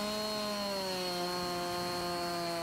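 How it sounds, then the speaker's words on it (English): A chainsaw in Farming Simulator cuts through wood with a loud, steady high-pitched engine whine that holds constant and close for the whole stretch, with no talk over it. "The sounds of chainsaws"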